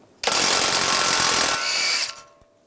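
Power tool loosening a tie rod nut with an 18mm socket on a 2013-2016 Dodge Dart front end, a single loud continuous buzzing burst of about two seconds that shifts pitch midway, then stops, close up with no talk.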